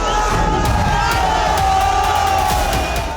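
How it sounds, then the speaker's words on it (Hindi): An agitated crowd pushes through iron barricades at a protest in Sanjauli, Shimla, a dense roar of shouting and cheering voices. The mass of sound is loud and continuous, with sharp cries rising above it. "जो धर्म के कामना संजौली में भीड़ यहाँ पर उग्र होती हुई दिखाई दे रही है"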